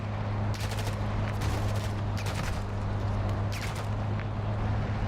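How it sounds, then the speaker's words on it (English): Sniper gunfire from a high-rise in Call of Duty DMZ, heard as a few sharp distant cracks over a constant low hum of game ambience, with no voices. "I'm getting sniped out from high rise."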